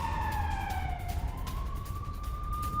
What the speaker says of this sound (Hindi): इस इलाके में वॉर सायरन बज रहे हैं